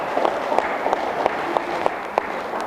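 Applause from a church congregation during a sermon gathering, a steady wash of clapping with distinct individual claps standing out, moderately loud and continuous for a few seconds.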